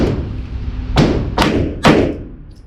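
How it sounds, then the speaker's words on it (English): An HK P30 pistol fires during accuracy shooting, first shot in double action, three sharp, loud reports about half a second apart, each with a short ringing decay over a low background hum. "Okay, first shot was high on the double action."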